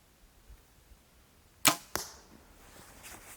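PSE EVO NXT compound bow shooting an arrow outdoors, a sharp snap of the string release followed almost immediately by a second thump, then a faint fading hum in quiet surroundings.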